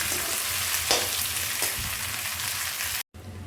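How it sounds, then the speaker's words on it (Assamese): Taro pieces fry in hot oil for a pickle, giving a steady, close sizzle with small crackles for about three seconds, broken by a brief dropout near the end. "এতিয়া এইখিনি অলপ সময় ভাজিম।"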